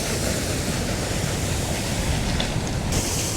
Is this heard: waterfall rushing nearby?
yes